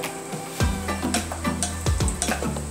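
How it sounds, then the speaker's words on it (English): Leftover rice frying in a hot pan for fried rice, stirred and broken apart with repeated scraping strokes over a steady close sizzle, no talking. "let me just kind of break up the rice here"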